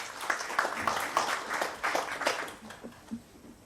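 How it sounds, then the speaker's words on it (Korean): Welcoming applause at a Korean book launch event as a newspaper real estate reporter takes the stage, a moderate burst of audience clapping that fades out over a few seconds. "환영의 박수로 맞아주시기 바랍니다"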